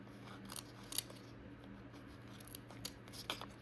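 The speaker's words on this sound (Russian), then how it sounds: "Не по бокам режем, а вот так держим ножницы ровно, чтобы у нас получилась платформа." Scissors make quiet, sparse snips as they trim material for a handmade Christmas tree ornament, with a few crisp clicks over a steady low background hum.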